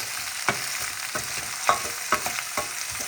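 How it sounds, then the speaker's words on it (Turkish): Pumpkin and potato pieces frying in oil while being turned over in a pan: a steady hiss of sizzling with several light, close spatula scrapes at irregular intervals. "bunu güzelce iyice bir alt üst yaptım. Bütün kabaklar ve patatesler yağlandı. Hem kavruldu biraz."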